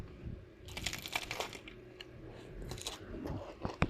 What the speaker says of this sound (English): let me take a bite